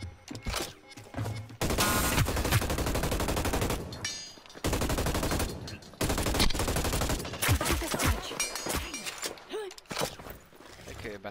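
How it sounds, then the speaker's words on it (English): Bursts of rapid gunfire during a close fight in the Hyperscape battle royale game, loud sustained volleys alternating with short gaps, with talk heard over parts of it. "There's a fight going on. I better help. Enemy fire."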